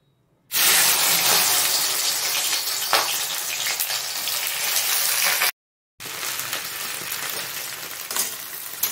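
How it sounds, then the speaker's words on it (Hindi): Okra drops into hot mustard oil in a wok, setting off a loud, dense sizzle that holds steady, breaks off for a moment, then resumes slightly softer with faint crackles. "सबसे पहले मैं इसमें भिंडी को भून कर निकालूंगी। तो मैं भिंडी डाल देती हूँ।"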